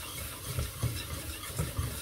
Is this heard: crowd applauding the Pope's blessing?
no